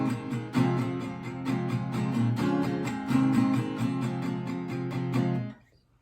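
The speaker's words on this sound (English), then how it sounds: "the way that I do the second verse is a continuous down strum throughout the entire thing" An acoustic guitar strums continuous, even down strokes through the second-verse chords of a song for about five seconds, close and bright, before ending.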